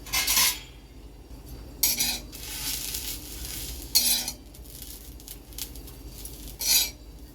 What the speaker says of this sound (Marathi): खोबरं याचं भाजून चांगलं लालसर होईपर्यंत।